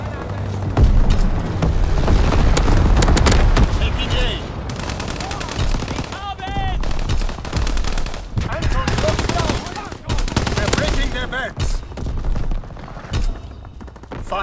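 Heavy machine-gun fire, rifle shots and booming explosions from a Call of Duty WWII battle, loud and nearly continuous, with in-game voices calling out over the chaos.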